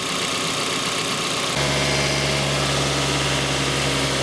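A car engine idles steadily while warming up, a loud close rumble that settles into a constant hum partway through and continues without any talk.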